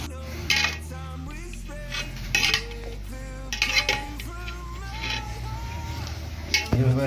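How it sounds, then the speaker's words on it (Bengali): A pot of papaya and snake gourd curry with fish and potato being stirred, metal spoon clinking and scraping against the pot in uneven strokes, with faint voices and other sounds in the background. "এইভাবে রান্না চাড়া করে দিলাম, ভালো করে মিক্স করে দিলাম।"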